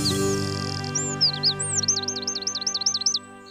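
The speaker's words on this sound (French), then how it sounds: "Cet oiseau, c'est le troglodyte mignon" A Eurasian wren sings in Paris, a bright, high, rapid trill of repeated notes after a few opening chirps, close and clear over a low steady background hum.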